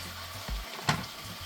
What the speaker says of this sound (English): Now we've fried off all that water that was trapped into the meat